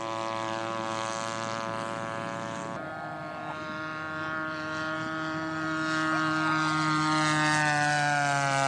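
Scale model P-47 Thunderbolt aircraft flying in at an airfield, a steady propeller engine drone with strong harmonic tone that swells louder toward the end as it draws nearer.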